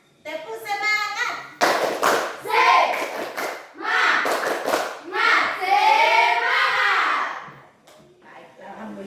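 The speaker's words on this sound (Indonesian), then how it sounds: "Semua tepuk semangat. Tepuk semangat." Schoolchildren perform the tepuk semangat spirit clap in a classroom, with rhythmic bursts of hand claps and chanting voices overlapping in a loud, near group.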